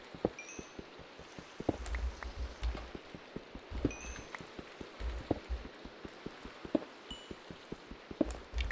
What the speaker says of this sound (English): I like the sound of Minecraft rain a lot more when you're under a ledge or something